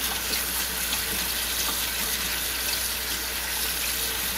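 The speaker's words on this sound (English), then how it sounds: "we're going to actually wash it with cold water." Cold tap water runs in a steady, full gush as a chicken of the woods (sulphur shelf) mushroom is washed. The close, unbroken stream lasts the whole stretch, with no talking.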